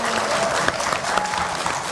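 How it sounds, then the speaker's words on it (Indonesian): Applause from a campus audience at a presidential candidates' debate, a thick burst of clapping with a few sharper claps standing out and faint voices mixed in. "Kasih tepuk tangan dulu dong."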